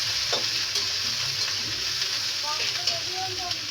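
Okra frying in a kadai over a gas flame gives a steady, close sizzle with broadband hiss. A few light stirring scrapes and small pops sit on top of the sizzle.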